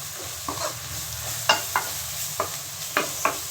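Eggplant fries in a pan with a soft steady sizzle while a spoon stirs it, giving several sharp, close scraping knocks spaced irregularly over the hiss, with no talking.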